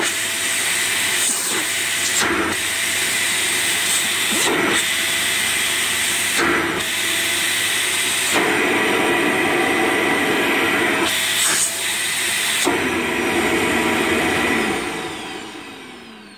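A repaired vacuum cleaner motor runs loud and steady with a strong rushing hiss, with a few brief surges along the way before it winds down at the end.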